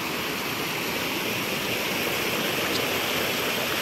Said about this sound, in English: Now there's a little area right here where the water runs off.